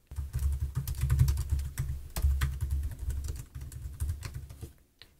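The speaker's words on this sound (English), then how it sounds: "I click on enter and I start typing my second alinea." Rapid, irregular clatter of keys on a computer keyboard while a blog post is written, a steady run of close clicks with a brief pause near the middle and a stop just before the end.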